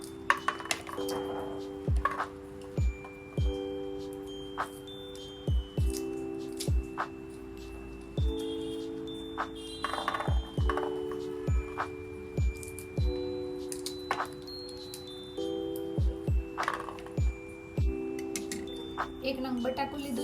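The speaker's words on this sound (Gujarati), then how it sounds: "સૌપ્રથમ આપણે વટાણાને ફોલી લઈશું." Fresh green peas are shelled by hand at home, giving a string of crisp, irregular snapping clicks from close by over a steady musical backing.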